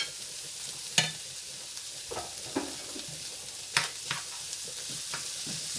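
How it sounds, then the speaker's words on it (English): Canned corned beef drops into a pot on a stove, giving a soft sizzle with several sharp scraping clinks of a utensil against the pot spread across a few seconds. "Go ahead and put my corned beef in."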